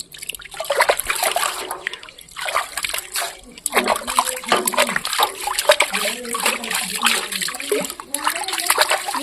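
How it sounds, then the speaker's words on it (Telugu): A new clay pot is washed with water. Splashes and sloshing come in repeated close bursts with short pauses between, while someone talks over the washing. "కొత్త కుండ కదా కొద్దిగా కడుక్కుంటే కుండ అయితే నీట్గా అవుతుంది"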